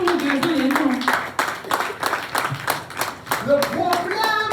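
A church congregation applauds, a dense, lively patter of clapping with a voice speaking over it.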